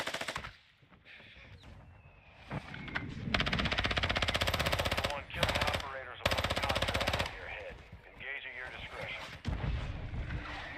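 Mortar and automatic gunfire erupt around the player in a DMZ shooter game, with long, loud bursts of rapid fire and heavy blasts in repeated waves and brief pauses between them.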